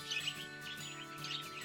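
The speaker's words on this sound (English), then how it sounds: "The chirping sound of the birds in the morning" Birds chirp and tweet in the morning beside a home with a traditional oven, bright repeated calls layered over steady background noise, fairly close and unbroken by talk.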